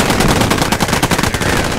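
Rapid gunfire in the Post Scriptum video game battle at Arnhem, shots aimed at a German Panzer IV tank, dense loud bursts of automatic fire crackling continuously with no talking.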